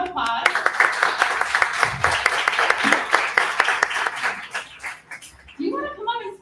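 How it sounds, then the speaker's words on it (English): An audience at a Nerd Nite evening in Okinawa claps for Nayuta, a dog from an adoption event, with dense rhythmic clapping for several seconds before it fades and a voice starts talking. "Can everyone please give her a round of applause?"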